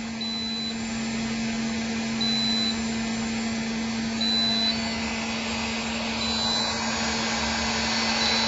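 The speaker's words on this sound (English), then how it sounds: "that heat gun's getting really hot" A heat gun runs under load on a lithium LiFePO4 battery backup UPS, giving a steady blowing roar with a constant electrical hum beneath and faint intermittent beeps.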